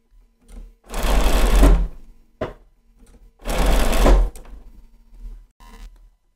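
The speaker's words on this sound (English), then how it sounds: "sewing on the solid line, just a little bit ahead" Two quick bursts of a sewing machine stitching a quilt block on foundation paper, loud and close, with soft handling clicks and taps between the runs.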